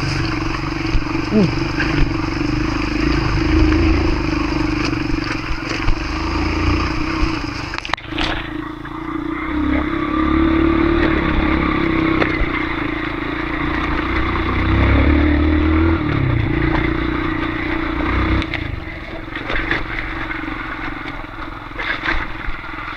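Off-road motorcycle engine running in a forest on a late-afternoon trail ride, a steady close rumble with throttle swells and a sharp knock midway, continuing throughout.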